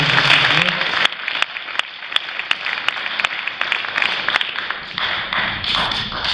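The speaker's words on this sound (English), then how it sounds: "So Bethany Hunt, we'll give her a round of applause." Audience applause at a high school sports award night, a steady patter of many hands clapping in a hall, fairly loud and continuous for several seconds.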